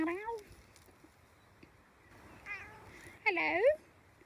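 A cat in a sunny garden meadow meows a few times, with a short mew near the start and a louder, rising meow toward the end, close by, while a person talks softly in between.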